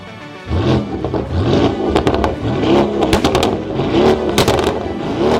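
A Lamborghini sport SUV's 4.0-litre twin-turbo V8 revs hard after a quiet start, loud and close, with rising and falling engine howls, sharp crackles and mechanical clatter between blips.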